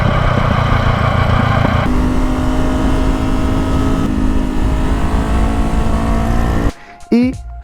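A Honda CBR 500 R motorcycle engine runs steadily while riding a mountain road down from the Valdesquí pass toward Rascafría. The engine drone is loud and continuous, with wind rush, and cuts off abruptly near the end.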